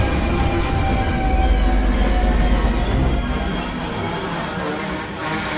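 Loud, steady rumble of a moving train with rail noise and tonal squeal, the roar easing slightly toward the end as the train jolts to a stop.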